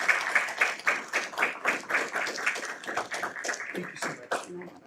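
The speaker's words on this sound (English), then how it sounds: "Please join me in a round of applause for the Congressman." An audience at a hypersonics symposium applauds the Congressman. Steady, dense clapping runs throughout and thins slightly near the end.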